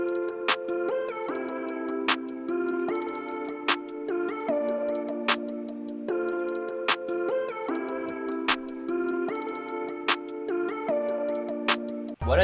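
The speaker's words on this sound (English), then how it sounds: "I added tight hi-hats to it, and the hi-hats they sound like this." Tight hi-hats in an FL Studio drum beat: crisp, closely spaced ticking in a steady rhythm, with periodic claps over sustained keys chords, a full loop heard throughout with no talking.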